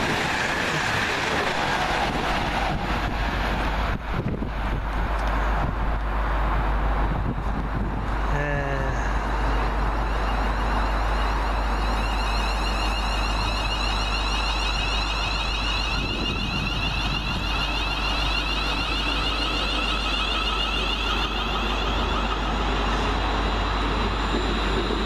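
A Class 350 electric multiple unit, number 350-120, running through Cheddington station, a steady loud rolling rumble with wheel and rail noise that holds for the whole pass, with a brief horn-like sweep early on.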